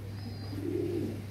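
A pigeon gives a short, soft coo nearby, a single low murmuring call over a quiet steady hum.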